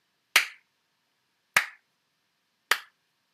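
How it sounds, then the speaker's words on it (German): Three single sharp hand claps, evenly spaced about a second apart, each crisp and close with a quick decay into silence. "Ich klatsche jetzt mal."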